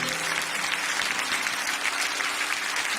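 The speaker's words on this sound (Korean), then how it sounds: "우리 다시 한 번 더 큰 박수로 격려해 드리기 원합니다." Dense, steady applause from a church congregation during a service at Bundang Woori Church, filling the whole stretch at a constant level with no pauses and no voices standing out.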